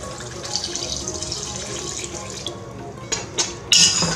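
Water runs steadily from a kitchen tap into a pot, a constant hissing splash that is close and moderately loud, with a brief clunk near the end.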